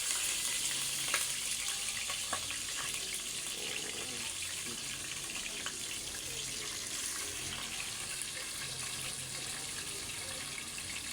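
A home-cooked curry hisses steadily in a pan, a dense, even sizzle that holds at the same level for about eleven seconds without any voices.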